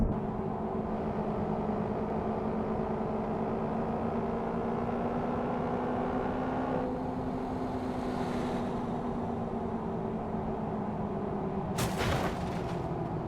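A steady engine drone with a low, sustained hum shifting slightly in pitch, with a sharp bang near the end, from a modded BMW M3 E36 car in Euro Truck Simulator 2.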